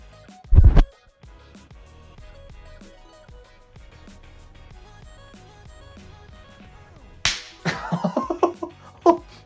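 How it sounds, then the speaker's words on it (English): A sharp, loud slap cracks out at the start, then quiet, then a burst of several more smacking hits and rattles near the end. "It's that slap sound. That slap sound."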